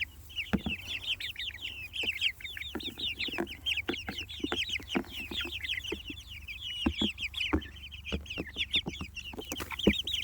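A flock of meat bird chickens clucks and chirps continuously up close, overlapping rapid calls with scattered taps and scuffs, busy and lively throughout.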